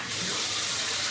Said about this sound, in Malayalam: നമുക്കിതിൽ കുറച്ചും കൂടി വെള്ളം ആവശ്യമുള്ളത് വെള്ളം ഒഴിച്ച് കൊടുക്കാം കേട്ടോ